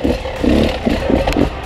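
An enduro dirt bike rides in second gear with a close, rough engine note that surges and dips in quick pulses, mixed with clattering and scraping.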